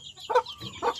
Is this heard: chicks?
yes